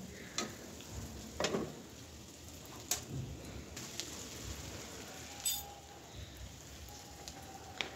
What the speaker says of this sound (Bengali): আমি একটু উচ্ছে ভাজাটা একটু নাড়া দিয়ে দিই